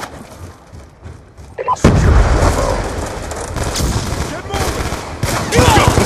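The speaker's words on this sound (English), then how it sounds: "Throwing grenade!" A grenade goes off partway through a Black Ops 2 firefight with a sudden loud, close boom. Dense gunfire and rumble follow and continue to the end.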